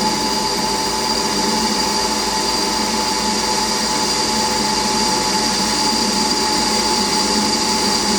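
A lathe hums steadily and loudly while turning a sawmill guide down to a 12.1 mm diameter, a constant whine with no breaks and no talking.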